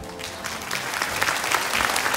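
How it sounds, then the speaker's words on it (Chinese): Audience clapping in an auditorium during a railway anniversary award ceremony, steady dense applause from a seated crowd, fairly close and sustained. "也请在座给予热烈的掌声"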